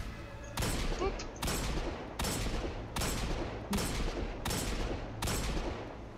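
Gunfire from the Destiny 2 video game comes in repeated loud bursts, roughly six sharp volleys at a steady rhythm with brief gaps of quieter background between them.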